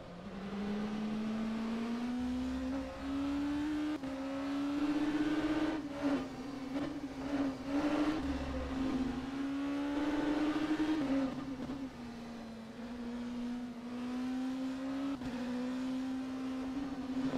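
Engine note of an LMP2 prototype race car in the rFactor 2 racing game at Estoril, a steady droning tone that rises and falls with revs and gear changes, continuous and fairly close throughout.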